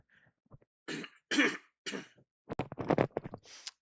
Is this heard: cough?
yes